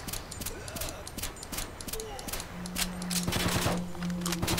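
Rapid bursts of automatic gunfire from a weapon in S.T.A.L.K.E.R.: Clear Sky crackle in quick repeated volleys, with a steady tone rising beneath the shots toward the end.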